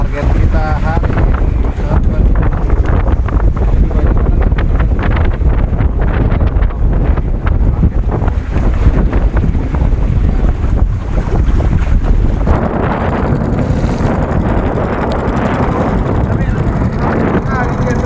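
Strong wind roars across a microphone on a small fishing boat near a fishing platform at sea, a loud, constant buffeting rush with water sloshing underneath and voices talking at times.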